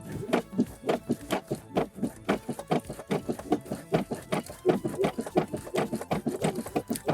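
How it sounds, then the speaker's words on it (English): A sewing machine stitching a decorative diamond stitch with a triple needle through fabric runs in a quick, steady mechanical patter of closely spaced needle strokes, close up and alone. "I'm going to be using this really fun diamond stitch here for my triple needle."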